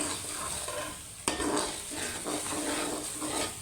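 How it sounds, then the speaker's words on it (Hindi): A spoon stirs white lobia curry gravy in a pan, giving a soft continuous scraping and sizzle with a light clink near the start, close and fairly quiet. "इसे अच्छे से मिक्स कर लें।"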